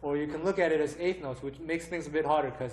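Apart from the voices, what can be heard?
No distinct noise like a dog, phone or traffic.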